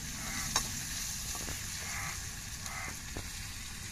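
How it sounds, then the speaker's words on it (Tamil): Ginger garlic paste and tomatoes sauté in a pan for an egg curry, a soft, continuous low sizzle with a few faint stirring taps, fairly quiet and free of speech. "இந்த இஞ்சி பூண்டு பச்சை வாடை மாறத்தட்டையும் கொஞ்சம் வதக்கிக்கிறேன்."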